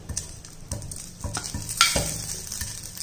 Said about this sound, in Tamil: லைட்டாக வறுத்துக்குருவோம்ப்பா.